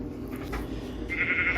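A Minecraft sheep bleats, a short nasal electronic cry near and clear after a brief bed of game ambience.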